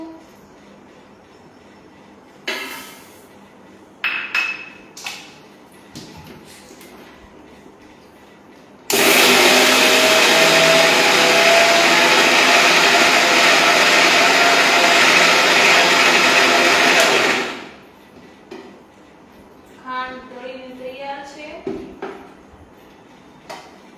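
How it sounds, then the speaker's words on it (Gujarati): A kitchen mixer grinder crushes a bowl of sugar in one loud, steady whirring burst of about nine seconds, with quieter kitchen clatter and brief voices before and after. "હવે આપણે મિક્સરમાં આજે એક બાઉલ ખાંડ છે એને ક્રશ કરી લઈએ"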